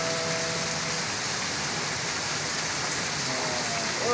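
Steady rain pours down, a loud continuous hiss of drops hitting surfaces close by, with faint tonal hums briefly underneath.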